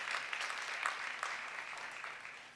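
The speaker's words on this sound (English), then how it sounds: "Let's give a round of applause for all of our citizens who reported out." Scattered applause from attendees at a public commission meeting, moderately distant and soft, a short patter of clapping that tapers off within a couple of seconds.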